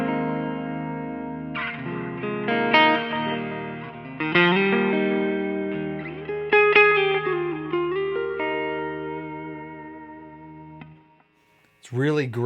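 A James Tyler Studio Elite HD bass plays a clean-toned melodic line through delay, reverb and a Bogner Harlow compressor, with notes sustaining and echoing, before trailing off to near silence and ending with a brief burst of sound.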